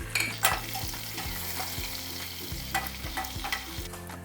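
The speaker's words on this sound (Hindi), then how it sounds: "तकरीबन 2 टेबलस्पून लहसुन अदरक का पेस्ट शामिल करेंगे और अब इसे अच्छे से भून लेंगे।" Garlic ginger paste sizzles in hot oil with curry leaves and fenugreek seeds for a fish curry, stirred with steady scraping strokes of a spoon against the pan, close and continuous, no voices.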